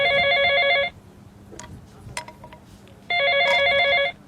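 A telephone rings in two loud, close bursts of trilling bell tones, with a quiet gap holding faint knocks and movement between them.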